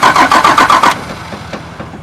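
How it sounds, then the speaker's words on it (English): A First Gen Cummins diesel engine cranks in a rapid rhythmic series of loud starter pulses for about a second, then catches and settles into a lower, rough idle with faint knocks. "I'll go start it up, and I'll try and start it"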